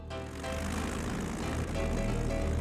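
Propeller engine of a fragile World War I French warplane built of wood and canvas held together by wires, a steady loud droning roar with dense harmonic hum that swells slightly and holds throughout, no voices.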